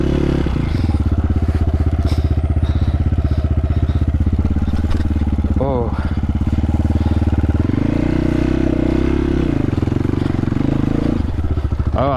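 MOTOPRO 300 motorcycle engine while riding, a steady close chugging drone with the clutch being slipped, pitch dipping and rising as the rider works the throttle over rough ground, with some scraping and clatter.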